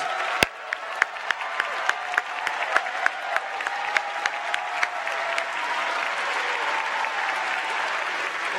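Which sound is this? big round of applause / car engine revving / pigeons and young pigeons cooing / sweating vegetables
big round of applause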